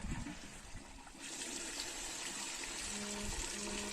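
Water is turned on and runs steadily from a hose or tap outdoors in a pistachio orchard, a constant rushing gush that swells after about a second and continues close by, with a brief tonal hum near the end.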